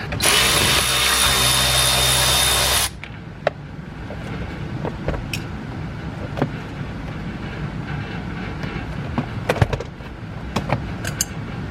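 A power tool removes a screw from the door trim of a Jeep Gladiator. A loud, close whirring burst lasts about three seconds and then stops abruptly. Faint scattered clicks and handling noises follow.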